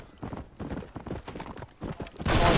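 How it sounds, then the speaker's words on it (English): Horse hooves clip-clopping at a fast gallop in the Red Dead Redemption video game, a loud steady rhythmic pounding of repeated beats, ending in a louder burst of noise. "I'm just riding around town on a super fast horse killing people."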